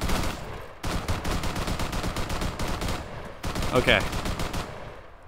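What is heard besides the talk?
gunfire in Arma 3 video game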